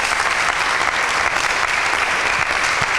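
Loud, dense applause from an audience at a Bible quiz fills the whole span, steady and close without pause, with no talking over it.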